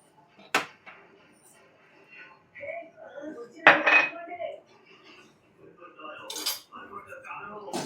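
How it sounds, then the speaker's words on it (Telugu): A spoon stirring sugar into boiled milk in a pot for homemade ice cream, giving sparse metallic scrapes and clinks with quiet gaps between, and faint voice-like sounds in places. "షుగర్ వేసుకొని ఇది మొత్తం మిక్స్ అయ్యేలాగా కలిపేసుకుందాం"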